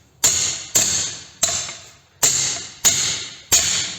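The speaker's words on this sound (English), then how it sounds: "giving it a couple of decent whacks." Six sharp metallic hammer whacks on a Studebaker part, tapping a plunger back down, landing in an even rhythm about two-thirds of a second apart, each ringing briefly before the next, close and loud.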